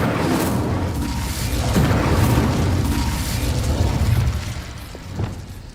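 An Incendio fire spell cast in Hogwarts Legacy gives bursts of whooshing, crackling flame with dull booms and pops, each rising and fading over several seconds with no voice heard.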